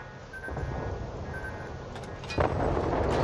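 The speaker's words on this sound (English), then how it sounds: "And here comes my shots." Gunfire from a naval battle video game, a few shots and a heavier blast rising late over a constant dense rumble of game noise.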